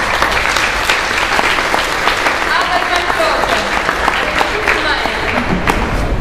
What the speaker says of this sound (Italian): facciamo un applauso ad Arte.